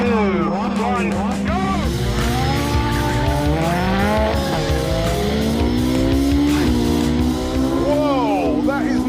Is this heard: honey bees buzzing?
no